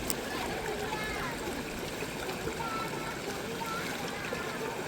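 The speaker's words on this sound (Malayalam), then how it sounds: "ബാക്ക്ഗ്രൗണ്ടിൽ ആ വെള്ളത്തിൻ്റെ സൗണ്ട്, അതും കാട്ടിൻ്റെ നടുക്കുന്ന് കേൾക്കുമ്പോൾ അത് വേറെ തന്നെ ഫീലാണ്" River water runs steadily in a forest, a constant rushing and splashing flow that stays fairly soft and even throughout.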